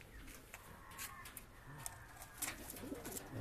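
Pigeons of the old Shahjahanpuri breed coo softly in a loft, with low murmuring calls and some wing flutter and rustling beneath faint background noise.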